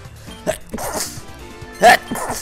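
A person sneezes amid game music, with a sharp burst near the middle that is louder than the quieter snorting breaths around it.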